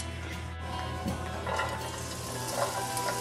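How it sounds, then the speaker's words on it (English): Spoonfuls of batter sizzle and crackle in hot olive oil in a frying pan, a steady frying hiss with a few light clinks of a utensil against the pan. "Then we take it in spoonfuls into the frying pan. Heat oil, which is a tablespoon of olive oil."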